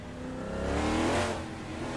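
Race cars in the Assetto Corsa game climb a hill after a corner, with engines revving loudly under acceleration and a swelling, steady roar with no talk.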